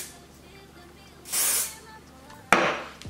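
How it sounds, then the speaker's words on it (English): Two short bursts of hairspray sprayed on hair, the first a steady hiss lasting about a second, the second a sharper spritz that fades quickly, close to the microphone. "So taking that hairspray and spraying it down,"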